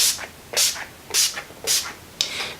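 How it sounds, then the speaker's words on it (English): Bridal makeup finishing setting spray mists out in five quick, evenly spaced hissing pumps, close and crisp, with no talking. "I'm gonna go ahead and set my actual makeup so it doesn't go anywhere with this. This is the Scandinavia, the Makeup Finishing Spray."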